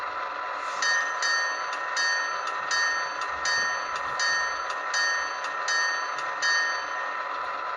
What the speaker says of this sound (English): so we're going to go to F1 for the bell.